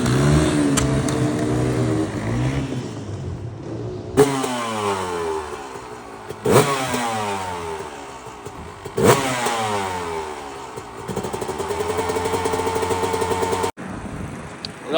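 Enduro motorcycles rev hard at the Touquet Enduropale beach race, several loud passes rising and falling in pitch one after another, with sharp bursts as bikes accelerate close by and a buzzing engine near the end.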